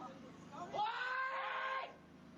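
Screams from people caught in a Japanese tsunami as it floods a harbour, a loud, sustained cluster of high wailing voices lasting about a second over a background murmur.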